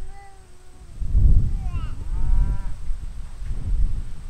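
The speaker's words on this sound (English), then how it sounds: "Those are grandpa's cows across the road." A Jersey cow in a herd grazing across a road on a farm moos in a few faint, distant calls over a steady outdoor rumble of wind. No one speaks.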